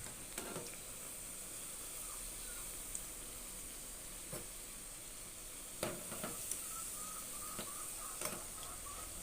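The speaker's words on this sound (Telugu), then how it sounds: "గోల్డ్ కలర్ వచ్చేంత వరకు వేయించుకోవాలండి" Puffed rice vadas fry in hot oil, giving a steady, soft sizzling hiss with occasional faint pops and light clicks of a utensil, with no voices.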